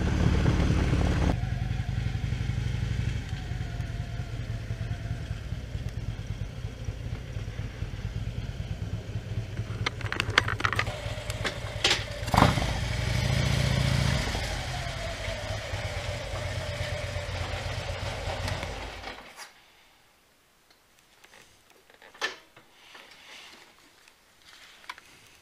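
A motorcycle engine runs nearby for about twenty seconds, a steady mid-pitched drone with brief louder swells and wind buffeting, then cuts off, leaving near-quiet with a few small knocks.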